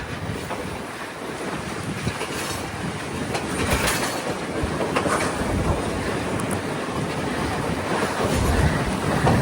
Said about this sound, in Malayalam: ട്രെയിനിങ്ങനെ ആടി വലയാണ്